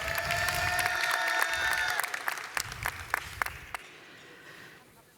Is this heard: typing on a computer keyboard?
no